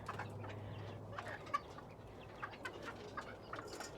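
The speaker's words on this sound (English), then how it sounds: "There's a chicken in them." Chicken clucking softly from inside a cage among quail pens, with scattered short calls over a low steady background hum, fairly quiet and close.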